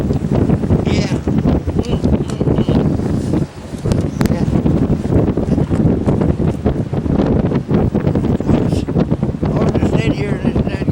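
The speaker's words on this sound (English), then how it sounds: "this daggone wind" Strong wind of about 40 miles an hour blows across whitecapped water during a crappie fishing trip, roaring loud and constant against the microphone with a brief lull partway through.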